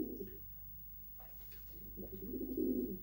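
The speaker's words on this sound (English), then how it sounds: "Of course, I've been recording birds." Pigeons cooing in soft, low repeated phrases, close by and fairly quiet, with a gap in the middle and a fuller burst of cooing toward the end over faint background hum.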